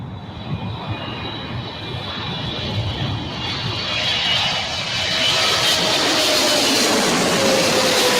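China Eastern Boeing 777 at LAX, its engines a loud broadband roar that steadily builds and swells as the jet passes close by, with a rising whine on top.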